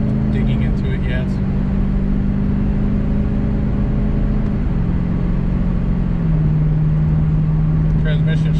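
A Lexus IS F car driving at steady speed, a low steady engine drone that steps down in pitch as the transmission shifts, with continuous road noise throughout.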